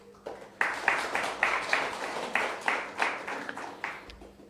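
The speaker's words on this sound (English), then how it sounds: "So can you give yourselves a clap," A church congregation applauds itself at a Sunday service, loose clapping that comes in separate surging bursts, fairly quiet and somewhat distant, with no voices over it.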